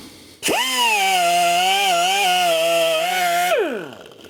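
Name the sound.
wire brush scrubbing oxidized battery cable and nut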